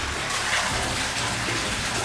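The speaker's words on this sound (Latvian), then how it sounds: "tek ūdens no kaut kurienes" Water runs in a damp cellar, a loud, continuous rushing gush close by that keeps one level for the whole moment, with no talking.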